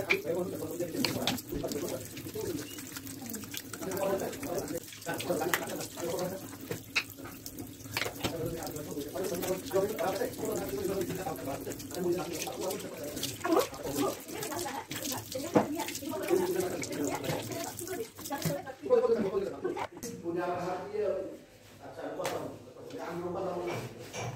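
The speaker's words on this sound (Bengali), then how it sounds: "এবার ফেসটা ধুয়ে নেব" Tap water runs steadily into a sink while a face is washed with face wash, with splashes and hand movements and a voice talking over it.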